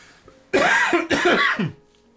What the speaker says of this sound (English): there was the first like serious cough that I had all day.